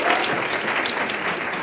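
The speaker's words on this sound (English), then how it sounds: "Let's give a round of applause" An awards-ceremony audience in Gauteng breaks into applause, a dense, even wash of clapping hands that stays loud and steady throughout.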